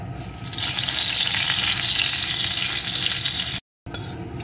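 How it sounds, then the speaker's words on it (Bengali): Dried red chili halves and black cumin seeds sputter in hot oil for a fish curry tempering, a loud, dense, steady sizzle close by that cuts out abruptly for a moment and then resumes. "এখন ফোড়নগুলোকে একটু ভেজে নেব"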